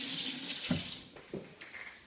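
A kitchen tap runs steadily as hands are washed underneath, water splashing and gurgling for about a second before trickling and short splashes follow, close and fairly quiet.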